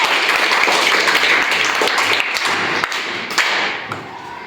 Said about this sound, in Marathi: वैष्णवीसाठी सगळे टाळ्या वाजवा